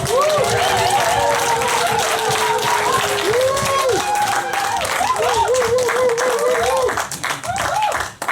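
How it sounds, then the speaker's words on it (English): An audience at a 2017 speakers club presentation event applauds and cheers loudly and continuously, with whoops and shouted voices over dense clapping before the noise begins to taper near the end. "So please give your biggest, loudest cheer that you can for Sister Shanice."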